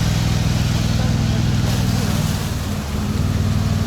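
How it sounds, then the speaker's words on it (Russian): A tractor drives into a swamp and floats, its loud, steady engine drone continuous and close, with low rumbling and churning across the whole short stretch. "Я в шоке, что трактор поехал и поплыл, блин."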